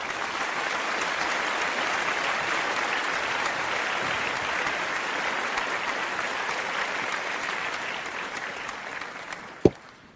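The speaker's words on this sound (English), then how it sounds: "If anybody deserves applause, it is Kady. So let's hear it for Kady." Sustained audience applause in honour of Kady Méite, steady and dense for about nine seconds before fading, with a sharp knock near the end.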